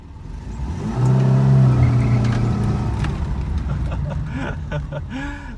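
A Skoda Favorit 136L engine revs up and pulls away, its hum rising and holding strong before settling into a steady drive with some rattles.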